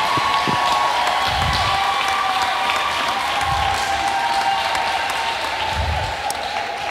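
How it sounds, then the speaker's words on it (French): An audience at a gospel choral award event in Congo applauds steadily for several seconds, a dense patter of clapping at moderate distance, with a few low thumps underneath. "Je vais demander d'abord au public d'applaudir pour la petite sœur."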